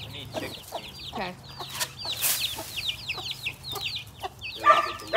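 Several chickens cluck and chirp close by in a quick, busy scatter of short calls that continues for about five seconds, with almost no talking.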